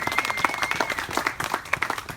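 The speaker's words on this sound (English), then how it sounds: "A round of applause for them." Wedding dinner guests applauding the hosts, a lively burst of clapping from a roomful of people with sharp individual claps standing out near the microphone and a faint tone running underneath.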